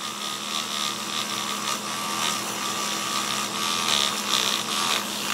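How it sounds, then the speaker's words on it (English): A Dremel rotary tool spins a small wire wheel against a metal part of a 1934 Ingraham Bedford wall clock, a steady close high-pitched whir with a slight rasping texture throughout. "I went over it with the little wire wheel and the Dremel like this"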